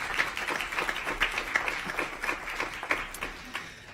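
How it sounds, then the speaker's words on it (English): Scattered applause from the audience at a school board meeting, honoring a district leader of the month; moderate, steady patter of claps at a middle distance with a few sharper individual hits. "But let's give him a round of applause for being Accelerate Hillsborough Leader of the Month."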